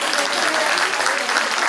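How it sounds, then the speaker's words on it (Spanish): Warm applause for young guitar students at a school concert during a village cultural week, brisk clapping from a small audience held steady for a couple of seconds. "Un aplauso para estos jóvenes artistas."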